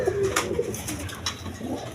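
Kaldom pigeons coo in soft, repeated low rolling calls, close and clear over a faint background hum, with no voices.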